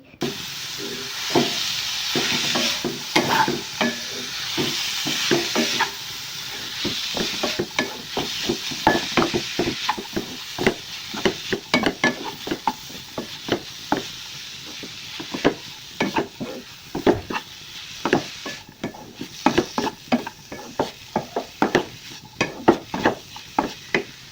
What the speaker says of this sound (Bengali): অল্পই চিড়া ছিল তো ওটুক ভাজা করে নিচ্ছি।